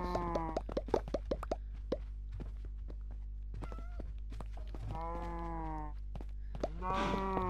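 Cattle mooing in a video game farm setting, several drawn-out moos at intervals with plopping clicks and a steady low hum between them, fairly close and clear.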